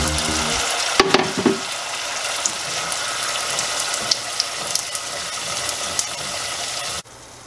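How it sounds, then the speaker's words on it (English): Taco sauce sizzles and bubbles steadily in a hot pan, a close, continuous frying hiss with a few brief clinks early on before it cuts off near the end. "We're gonna continue to cook the sauce until it's the right consistency."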